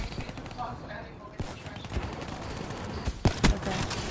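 A sentry gun firing in a video game match, with scattered loud shot cracks and a cluster of sharp reports near the end over dense busy game noise.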